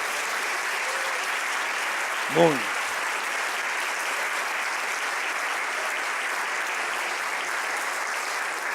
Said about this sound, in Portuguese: Aplaude a Deus por isso aqui